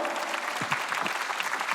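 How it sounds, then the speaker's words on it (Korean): Church congregation at a Sunday worship service clapping together, a short burst of steady applause at moderate distance, fairly soft and alone. "박수치며 하나님께 영광을 돌려요"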